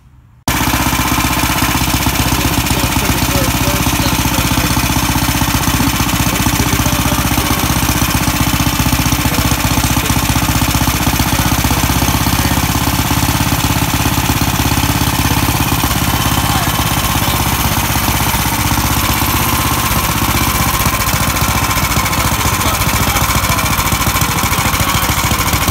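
Gasoline engine running on a golf cart converted from electric, a loud continuous close-up clattering drone that holds steady for the whole stretch after a brief quiet start.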